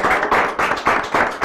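A studio audience on a football quiz show claps in a quick, even rhythm, about five loud bursts in a second and a half with no talking over them.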